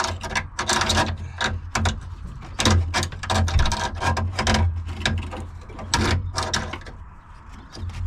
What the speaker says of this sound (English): I have unscrewed the condenser and he's coming out.